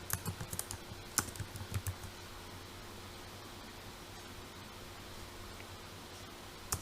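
Quiet clicks of typing on a computer keyboard while working in Python PyQt5 software, a burst of irregular keystrokes in the first two seconds, then near silence with a faint steady hum and one last click at the end.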